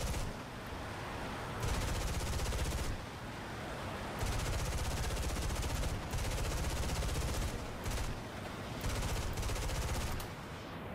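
An F-80C Shooting Star's machine guns fire in War Thunder, loud sustained bursts of rapid gunfire broken by short pauses, repeating several times with no talking over them.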